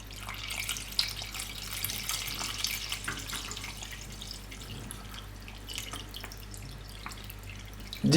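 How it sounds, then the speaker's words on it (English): Red cooking wine pours into a simmering beef stew pot, a continuous liquid trickle and splash with drips, close and moderately loud, ending in a brief clunk. "I'll pour the rest of the wine."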